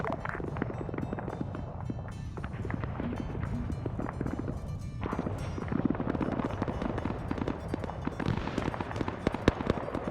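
Grenade strikes in a military video game set during the Vietnam War's Battle of Ia Drang come as a dense string of rumbling blasts and crackling bangs, loud and continuous, with no talking.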